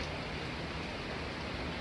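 Steady, dense patter of rain falling, a continuous broadband hiss with no voices, even in level throughout.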